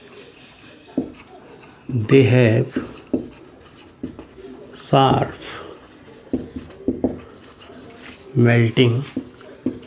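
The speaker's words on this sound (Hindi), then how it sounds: "यहाँ लिख देंगे" Marker or chalk scratches across a board during a Class 10 chemistry lesson, short strokes scattered between and beneath a teacher's steady talking.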